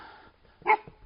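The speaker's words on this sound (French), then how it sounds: "Salut le chien." A dog met on a countryside hiking trail in a park gives a single short bark, close by, after a quiet moment with faint whimpering.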